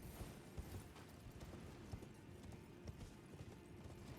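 Galloping hoofbeats from a horse ridden in Elden Ring pound in a quick, regular rhythm, close and fairly prominent over a dense background rumble of game ambience, with no voices.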